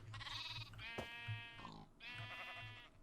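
A Minecraft sheep gives three nasal, wavering bleats in quick succession, clear and moderately near, with brief gaps between calls.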